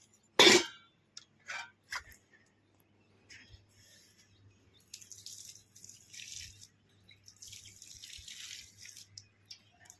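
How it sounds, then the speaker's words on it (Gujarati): Water is poured onto a tulsi plant: a sharp splash opens, followed by scattered drips and a soft, intermittent trickle in a quiet outdoor setting. "હાલો હવે આપણે નાખશું તુલસીમાં પાણી નાખી દઈ થોડુંક"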